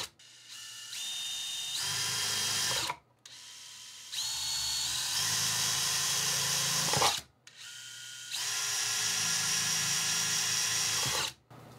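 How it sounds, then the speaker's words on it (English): A power drill bores holes into the corners of a board in three separate loud bursts, each a few seconds long with a rising whine and short pauses between, close and alone. "So we're going to drill at the corners"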